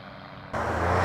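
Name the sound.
microlight aircraft flying at an airfield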